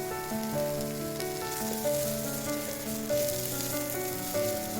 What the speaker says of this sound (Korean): 양파를 넣고 볶고 양파가 살짝 익으면 어묵을 넣고 섞어줍니다.